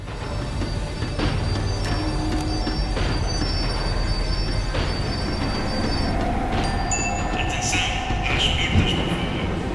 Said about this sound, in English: The tram was slowing down, and I'd only just gotten on board.